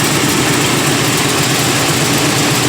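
The engine of a 1972 Oldsmobile Cutlass runs at a steady idle after a coolant system flush, giving a loud, continuous low rumble with no variation throughout.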